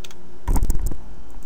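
Several quick keystrokes clatter on a computer keyboard in a short, close, loud burst, with no talking.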